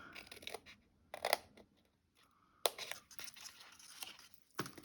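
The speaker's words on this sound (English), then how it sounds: "now on the chimney, we're gonna cut right down the one side of the chimney and cut that off" Scissors cutting down one side of a paper craft chimney for a Christmas project, heard as several short bursts of crisp snipping and crinkling separated by quiet pauses, close and fairly soft.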